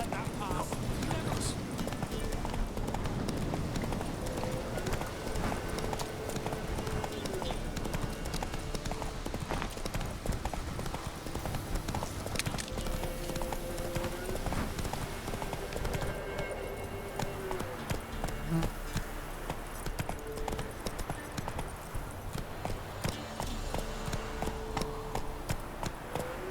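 Roach the horse gallops in The Witcher 3, a steady stream of rapid hoofbeats that holds throughout at moderate level, with a voice speaking at times over the clip-clop.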